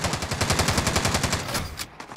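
Rapid automatic gunfire rattles in an even, fast rhythm from an online match of Call of Duty: Modern Warfare. The bursts stay loud and continuous for about two seconds before cutting off.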